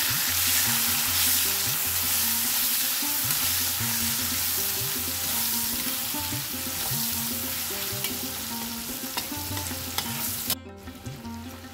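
Chopped onion sizzling loudly in hot oil for a Bengali prawn malai curry, a dense steady crackle with stirring scrapes, ending with a brief drop in the sizzle near the end.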